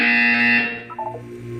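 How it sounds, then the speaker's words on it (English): A harsh electronic buzzer from the Portal 2 video game blares loudly for about half a second, then cuts off into softer tonal chimes and a low hum. "You will hear a buzzer."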